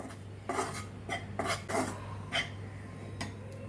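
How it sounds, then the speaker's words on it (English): Gram flour roasting in a pan for Mysore Pak, stirred with a utensil that scrapes and clinks against the metal in a steady run of close strokes over a low, constant hum. "Roast it for 2-3 minutes until the smell of the gram flour comes."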